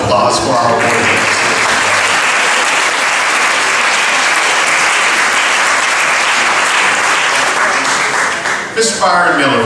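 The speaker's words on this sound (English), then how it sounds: "How about another round of applause for our awardees?" Dinner audience applauding awardees at a Freedom Dinner, a loud, sustained round of dense clapping filling the room, with speech returning briefly at the start and end.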